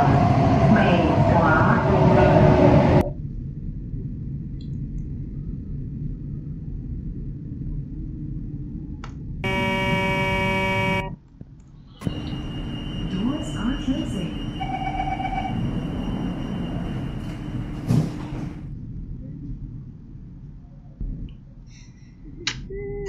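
A Roblox TEL Service CT251 train runs from W. North to Garde, with a steady rumbling ride, a brief burst of door chimes or beeps partway through, and an electronic announcement tone near the end.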